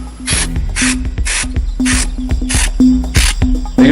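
Compressed air is sprayed in short repeated bursts onto computer fan blades to clean off dust. Each hiss comes with a clicking, ratcheting rattle as the blades spin, loud and close, seven or so blasts in steady rhythm.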